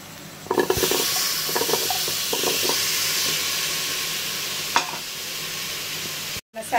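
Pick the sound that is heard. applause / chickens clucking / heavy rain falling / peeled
peeled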